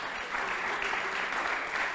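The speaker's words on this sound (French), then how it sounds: "applaudissez-le également" An audience applauds a panelist at a housing awards debate, a dense, even wash of clapping that holds steady, fairly loud and close, for the full two seconds.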